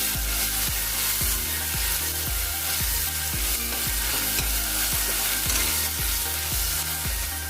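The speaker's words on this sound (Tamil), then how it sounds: "இப்போ நாம் இஞ்சி பூண்டு சேர்த்து நல்லா பச்சை வாசனை போக வதக்கிக்கலாம்" Onions are sautéed with ginger garlic paste in a pan for tomato biryani. A loud, constant sizzle is punctuated by steady, rhythmic stirring strokes repeating roughly every half second throughout.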